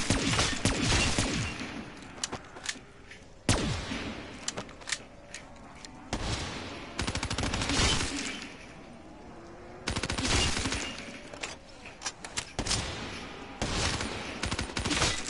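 Automatic gunfire in a PS4 shooter game, sustained bursts of rapid shots separated by brief pauses, loud and dense across the whole stretch with faint voices in the background.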